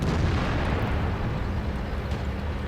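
A Panther II tank destroyed in World of Tanks, a loud continuous explosive rumble that fills the whole stretch with dense noise and no clear gaps, no speech on top.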